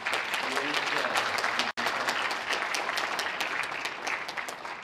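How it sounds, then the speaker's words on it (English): Audience applause at a college admissions night, a full steady round of clapping that fills the room, briefly cut by a sharp dropout before continuing evenly to the end. "let's get a big round of applause for the folks who guided us"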